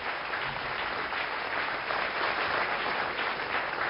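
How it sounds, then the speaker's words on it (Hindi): A studio audience on an Indian talk show claps in a steady, dense wash of applause that holds evenly throughout with no talking over it. "सारा पूरे हाउस ने आपकी बात पे ताली बजाई"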